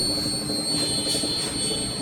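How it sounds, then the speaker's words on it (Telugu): Indoor fan motor of a Toshiba ductable inverter air conditioner running, a steady close whooshing hum with a constant high whine, unbroken throughout. "ఇండోర్ ఫ్యాన్ మోటార్ ఇది,"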